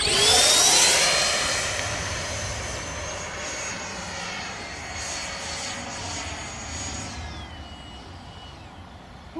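A Freewing Ananti S model jet airplane in flight, its ducted-fan whine loud at first as it passes close, then settling into a steady rushing drone as it moves farther away; no talking.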